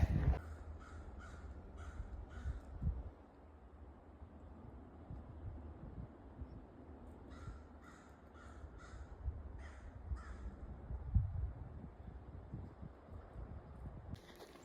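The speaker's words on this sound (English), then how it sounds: "I can hear some chickadees behind me" Chickadees call outdoors on a freezing cold day, sending two groups of quick repeated scratchy notes from some distance over a low wind-like background hush.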